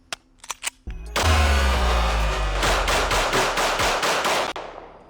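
A real gun fires a rapid magazine dump outdoors, a few single shots followed by a dense, loud, continuous burst of gunfire lasting several seconds before stopping abruptly.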